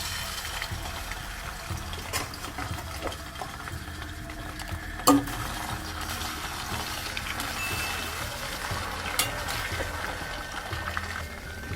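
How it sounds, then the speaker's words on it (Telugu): Chicken pieces fry in groundnut oil, giving a low, steady sizzle with occasional stirring clatter and a few louder clicks, heard without talk. "ఇప్పుడు ఆ ముక్కల్ని మనం ఎర్రగా వేయించుకోవాలి."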